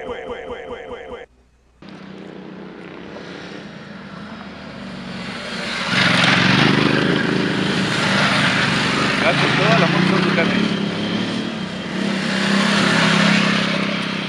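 Ducati motorcycles pass by on a road near Pico de Orizaba, with engine noise swelling and staying loud from the middle onward while someone talks over it.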